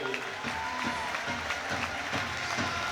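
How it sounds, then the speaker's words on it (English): A crowd at an ice hockey playoff final in an arena applauds the runners-up, producing steady, dense clapping with some crowd noise throughout. "please put your hands together for our runners-up this afternoon, the Widnes Wild."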